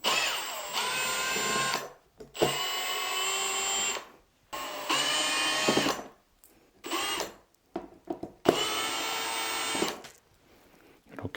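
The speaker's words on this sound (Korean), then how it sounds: "이런 전동 드라이버 집에 다들 하나씩은 가지고 있죠." A handheld electric screwdriver drives screws to fasten a monitor arm plate. It whirs in several close bursts of a few seconds each, separated by short silences.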